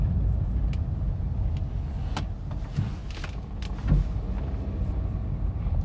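Toyota Etios Liva hatchback driving over uneven road during a suspension test, with steady low road rumble inside the cabin and a few dull thumps from the suspension over bumps.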